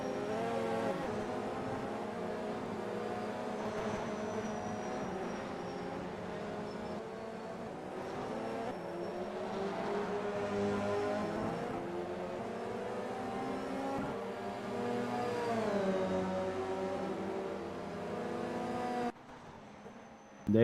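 WTCC touring cars racing at Donington during a test race, a continuous loud blend of engine drone and shifting revs from several cars that swells and dips throughout, with no talk.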